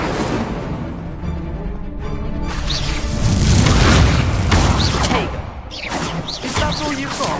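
Confringo blasting spells burst in Hogwarts Legacy combat, with several loud booming explosions and crackling impacts that swell to a heavy rumbling peak midway, then come as sharper hits toward the end.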